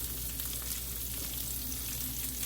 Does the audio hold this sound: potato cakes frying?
yes